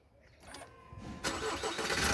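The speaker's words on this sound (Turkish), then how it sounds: "Arabayı çalıştırdığımızda ya da yarım kontak yaptığımızda" An Opel Astra K car engine cranks and starts nearby, rising from a low whir into a steady, broadband running roar that holds to the end.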